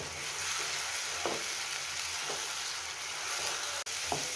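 Tomato paste frying in a pan with ginger garlic paste, a steady close sizzle with a few soft stirring scrapes, no talking.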